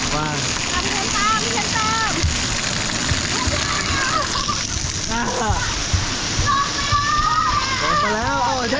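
Water splashing and sloshing at a Siam Amazing Park water park in Bangkok, continuous and fairly loud, with children's voices and chatter mixed throughout.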